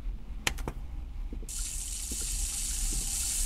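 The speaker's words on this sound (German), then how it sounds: "So, wir müssen ja eh alle Wasserhähne aufdrehen." Water taps turned on in the game Ghost Watchers: a few faint clicks and knocks, then water bursts out and keeps rushing in a steady, loud gush to the end.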